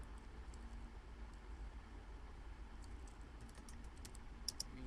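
Typing on a computer keyboard during a web front-end design lesson, a faint, steady run of soft key clicks over a low background hum, with a few sharper taps near the end.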